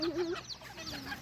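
Chickens cluck in short, bright calls close by, with a few quick clucks rising and falling over a quiet outdoor background and no talking.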